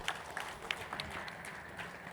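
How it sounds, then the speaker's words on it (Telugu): Faint applause from a crowd at a Telugu meditation gathering thanking the volunteers, with scattered claps popping out of a soft wash of hand noise, heard from a distance. "వాళ్ళకు ఒక్కసారి గట్టిగా చప్పట్లతో మన కృతజ్ఞతలు తెలుపుకుందాం"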